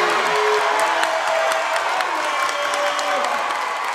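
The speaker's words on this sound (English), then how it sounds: "And the crowd goes wild." A high school boys varsity basketball crowd roars and cheers steadily in a gym, loud and sustained with whoops and applause, commentary voices underneath.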